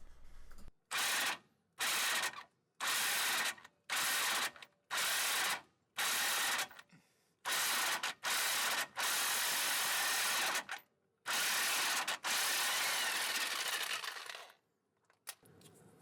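An impact wrench with a hex socket removes a differential plug on a Toyota Tacoma, firing in a series of loud hammering bursts separated by short gaps, then a long final run before stopping, close with no talking.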